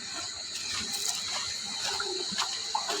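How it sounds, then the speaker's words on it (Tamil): Water pumped out of a dirty home fish tank through a pipe, a steady close trickling and splashing flow with small gurgles, fairly quiet and continuous with no talk. "நம்ம பைப்பு போட்டு தண்ணியெல்லாம் ஃபஸ்ட்டு வெளியே எடுத்துக்கலாம்"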